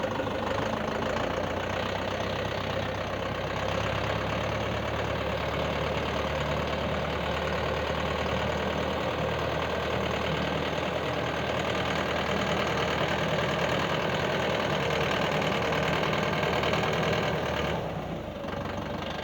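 A YTO EX 604 tractor engine runs steadily in reverse gear with a back blade fitted and no load, a loud, continuous rumbling drone that holds for almost the whole stretch and drops off right at the end.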